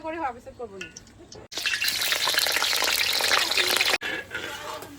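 Mixed vegetables frying in refined oil in a home kitchen, a loud steady sizzle that bursts in after a brief voice and carries on, cut by a short break before resuming.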